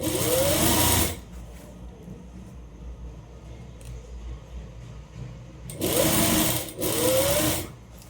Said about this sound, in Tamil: மடிச்சுட்டு டாப் ஸ்டிச் படிமான தையல் போடுவோம் இல்லையா, அதை அப்படியே மடிச்சுக்கிட்டே போட்டுடலாம்.